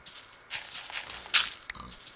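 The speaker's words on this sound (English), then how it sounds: "I can hear pigs." Pigs oinking in the video game Minecraft, a few short grunts scattered over faint background noise, one louder snort standing out near the middle.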